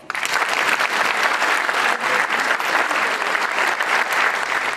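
Long, sustained applause from a theatre audience after a performance of the play "Lovci na miraz", dense and steady clapping filling the hall throughout without pause.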